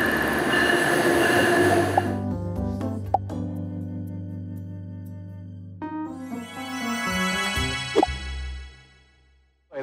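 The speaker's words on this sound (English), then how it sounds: "we're hopping on a train to Delaware" A train rumbles along the rails with a steady low drone, a few sharp clicks and a rising whine near the end before it fades out.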